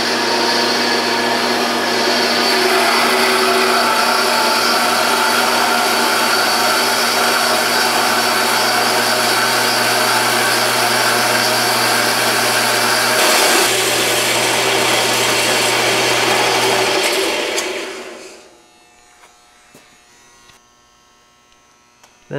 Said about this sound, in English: First thing I'm gonna do is cut the 2x2 tubing there at 11 inches. I'm gonna use the bandsaw for that.